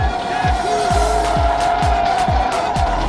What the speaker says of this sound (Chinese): 他却开始了漂移过弯